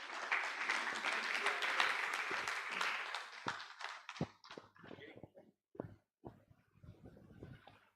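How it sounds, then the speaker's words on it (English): Audience applause at a 25th priestly anniversary celebration, a dense sustained wash of clapping for about four seconds that then thins into scattered, separate claps and fades out. "please, a round of applause for him, please"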